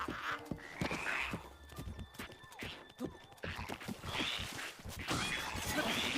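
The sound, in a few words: horse neighing and hooves, video game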